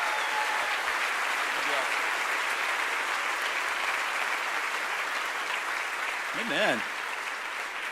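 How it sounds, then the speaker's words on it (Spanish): A church congregation breaks into sustained applause at a Sunday service, a steady dense clapping that fills the room throughout, with a brief spoken voice over it. "Ahora vamos a levantar una explosión de aplausos al profeta"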